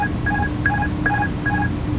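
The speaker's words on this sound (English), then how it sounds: "That button is just disconnecting. It's making three noise normally, and then it says okay." Short electronic cockpit beeps from the disconnect button in an Inibuilds A310 in Microsoft Flight Simulator, several quick tonal chirps in a rhythmic sequence over a steady low background hum.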